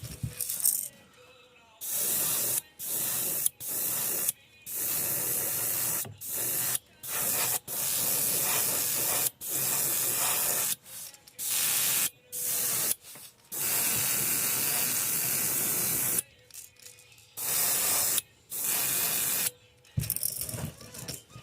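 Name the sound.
airbrush spraying paint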